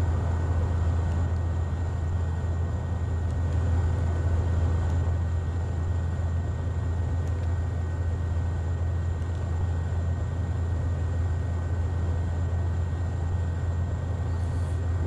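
A Pilatus PC-12 turboprop in a flight simulator spools up with a steady, loud engine drone and a low hum that holds evenly throughout, with no talk.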